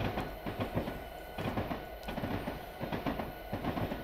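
Long intermodal auto rack freight train in the Train Sim Classic game on the Quakertown and Southern route, rolling with a steady rumble and rhythmic clickety-clack of wheels over rail joints, heard from outside at moderate volume.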